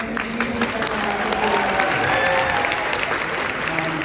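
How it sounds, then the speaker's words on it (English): Sustained applause and cheering from a crowd at an Integrity Toys doll convention, steady and full throughout, with voices carrying over the clapping. "a round of applause for Jason"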